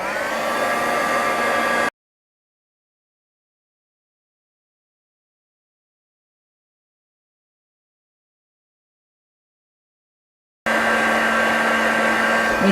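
A hair dryer blows air over handmade paper flowers, giving a steady, close whirring roar in two short bursts with a long silence between them.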